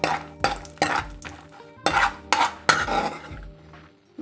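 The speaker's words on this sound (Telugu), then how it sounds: "ఎండు ద్రాక్ష కూడా కొంచెం స్టవ్ని సిమ్లో వేసుకొని వేపుకోండి లేకపోతే మాడిపోతాయి అలాగే జీడిపప్పు కూడా వేసుకోండి" Cashews and raisins fried in a pan on a low flame, with loud metallic clanks and scrapes of a utensil against the pan in several sharp bursts, nearby and without talk.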